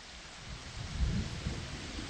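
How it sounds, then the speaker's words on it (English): Rain and thunder sound effect: a steady hiss of falling rain with a low rumble of thunder swelling near the middle, then rolling off while the downpour continues evenly. "It was a rainy Saturday morning and I could hear the rain tapping against my window."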